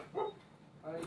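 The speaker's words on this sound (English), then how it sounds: "my dog's just barking because my son's come home." A pet dog barks indoors at someone arriving home, two short faint woofs separated by a pause, picked up at a distance with little else around.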